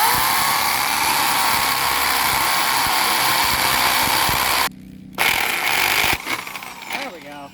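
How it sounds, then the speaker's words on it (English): A power drill bores a hole for a wall project, a loud, steady, close grinding whine that cuts out briefly midway, starts again, then tapers off. "I got to go drill that other one"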